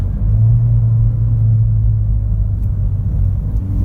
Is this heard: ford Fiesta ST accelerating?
yes